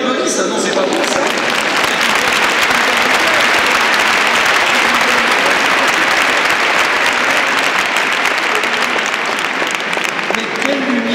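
Sustained applause from a congregation inside Saint-Sulpice church in Paris, loud and dense for the full stretch, with a few voices mixed into the clapping.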